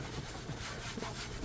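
Steady rubbing of cooking oil into bubble gum stuck on a plastic surface, a soft continuous scrubbing friction close up, alone without talk.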